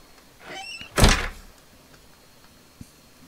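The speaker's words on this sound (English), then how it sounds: "Let's try this door again." A door in a horror video game rattles but won't open, a short burst of handle shaking followed by a louder heavy thunk, then a faint knock; nearby and alone in a quiet room.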